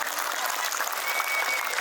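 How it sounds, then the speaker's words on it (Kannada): Steady, dense applause from an audience at a school annual day, sustained at even loudness from start to finish with no voices above it. "ಎಲ್ಲರೂ ಆಯಿತು, ಚಪ್ಪಾಳೆ ಮಾಡಿದ್ರಲ್ಲ, ಇನ್ನೊಂದು ಸರಿ ಚಪ್ಪಾಳೆ ಮಾಡಬೇಕು ಅಂತ ನಾನು ಹೇಳೋಕ್ಕೆ ಇಷ್ಟಪಡ್ತೀನಿ"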